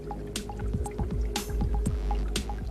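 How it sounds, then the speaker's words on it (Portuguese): Volcanic rock fizzing in acid inside a laboratory test tube: close, steady stream of small popping bubbles and wet drips, with a few sharper bursts of hiss, no voices. "Mergulhe algumas rochas vulcânicas em um tubo de ensaio com o ácido e observe as bolhas que se formam"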